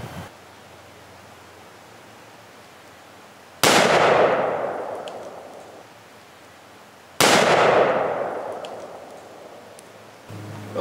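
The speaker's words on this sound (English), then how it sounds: "we're going to take some cinder blocks and we're going to shoot them with the M4 carbine" An M4 carbine fires .223 rounds into cinder blocks outdoors: two sharp, loud shots several seconds apart, each cracking suddenly out of a quiet background and trailing off in a long echoing decay.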